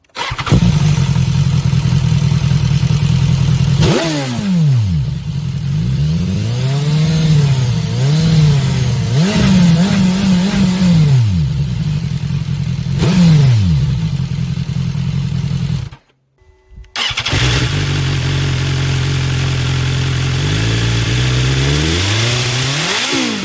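A BMW S1000XR motorcycle with an aftermarket exhaust revs repeatedly, loud and resonant, rising and falling in pitch, briefly cutting out before idling and revving again.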